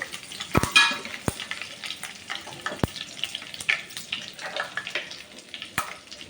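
Ginger garlic paste sizzles in hot oil for an Andhra-style fish curry, a steady close hiss broken by a few sharp clicks and scrapes from stirring, with no talking.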